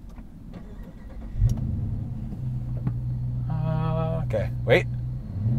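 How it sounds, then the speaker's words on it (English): A 2022 Dodge Charger R/T with a 5.7-liter Hemi V8 cranks and fires up, then settles into a low, steady idle rumble, with a brief rev near the end and someone speaking briefly over it. "listen to the startup"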